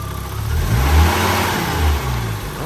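An Audi UrS4 engine stuck running rich revs up close and loud, a throaty rise that swells and dips with a slight stumble before settling back toward idle, with no talk.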